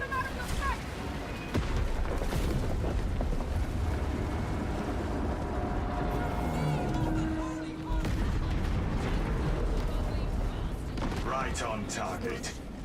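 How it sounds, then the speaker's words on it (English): Heavy explosive charges detonate in a Warhammer 40K video game, a dense run of loud booming blasts and rumbling artillery-like fire with a brief lull midway, mixed with in-game voices and battle noise. "Detonate the charges now."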